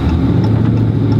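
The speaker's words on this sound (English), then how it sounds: "It's a Corsa catback with American racing headers and mid-cap deletes." A 2016 Dodge Charger 392 Scat Pack with a Corsa catback exhaust, American Racing headers and mid-cat deletes idles with a steady, deep, loud rumble that holds even throughout.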